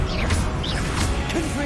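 A burst of Confringo fire-spell impact in Hogwarts Legacy, a short crackling crash and whoosh filling the moment, loud and close against a dense, busy game backdrop.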